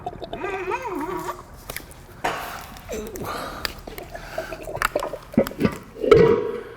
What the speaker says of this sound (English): I want to take the torque converter out and drain it